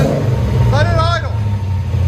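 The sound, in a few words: Nissan 240sx LS3 V8 idling with Borla Pro XS exhaust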